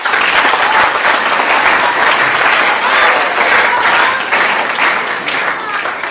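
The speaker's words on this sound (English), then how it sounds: "Round of applause for them." An audience applauds the winners at a live seminar on 21st-century skills, a dense, steady wash of many hands clapping that holds loud and even for the whole stretch, with faint voices mixed in.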